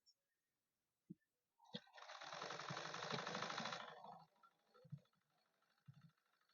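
A sewing machine stitching a second line along a puffed sleeve seam runs in one close, rapid whirring burst of about two seconds, with scattered clicks and knocks of handling the fabric before and after.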